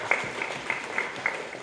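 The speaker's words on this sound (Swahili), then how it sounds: "Tuwapigie makofi mengi sana watu hao." An audience claps at a secondary school academic awards ceremony in Iringa, giving a steady, fairly faint patter of applause with a few sharper claps standing out.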